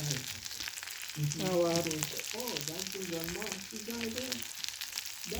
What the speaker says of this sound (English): So we cook the onion, the ginger, you have garlic, you cook at that point